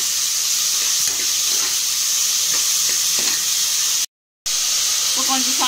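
Green chillies and onion fry in a pan with a loud, close, hissing sizzle broken by faint stirring scrapes. The sound cuts out to silence briefly near the end, then resumes.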